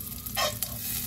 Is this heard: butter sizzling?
yes